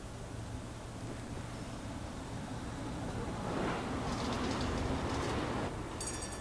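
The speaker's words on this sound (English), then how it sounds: "But here's our tram." A tram in Syberia: The World Before rolls in with a low rumbling drone and rail noise that swells toward the end, topped by brief metallic squeals and clatter.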